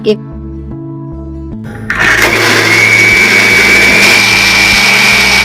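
Mixer grinder blending soaked cashews and raisins into a paste: after a lower hum with a steady low drone, the motor surges into a loud, steady whirring grind that holds for several seconds, close up.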